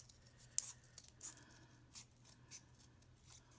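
Scissors snip through a cardboard tube in a few quiet, separate cuts, each a short crisp crunch with faint rustling between, close and alone.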